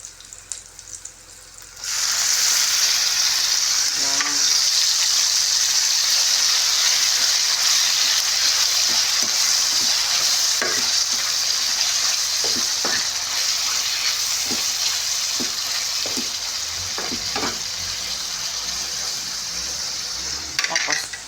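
Chicken liver sizzles in a pan with garlic, onion and ginger for adobo, a loud, steady frying hiss that starts abruptly after a quiet moment and carries on with occasional clicks of stirring.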